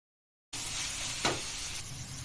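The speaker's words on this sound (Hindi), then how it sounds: "अब डालेंगे इसके अंदर एक बारीक कटिंग वाली प्याज है। प्याज को अच्छे से भूनेंगे।" Finely chopped onions hit hot oil in a pan after half a second of silence, then fry with a soft, even sizzle and one brief stirring scrape.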